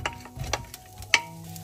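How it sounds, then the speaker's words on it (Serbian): Chopped leek going into heated olive oil in a pan, giving a brief sizzle with light stirring taps and one clear clink of a utensil against the pan near the end. "Na zagrejano ulje dodajem praziluk"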